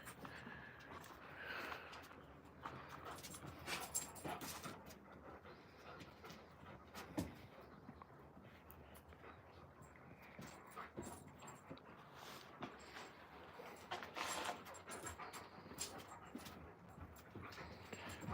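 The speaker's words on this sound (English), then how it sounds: "These guys are Alaskan Malamutes." Alaskan Malamute puppies pant and whimper steadily through a busy, noisy outdoor scene, with occasional small yips rising above a continuous background wash.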